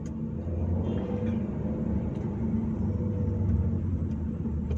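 Inside a Volkswagen Lamando under acceleration, a steady low engine rumble and road drone holds constant and loud, with faint ticks above it and no voices.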